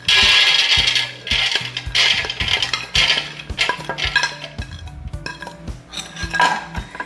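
Peanuts are tipped into a preheated air fryer basket, rattling and clattering against the metal in loud bursts with brief pauses in between.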